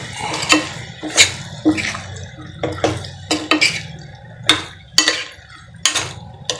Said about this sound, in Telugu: ఇదంతా మంచిగా కలిపేసుకోవాలి